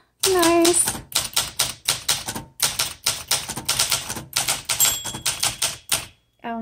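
Rapid mechanical clacks of a 1965 Olympia SM9 manual typewriter come in quick bursts, with a bright bell ring near the start and a voice briefly speaking.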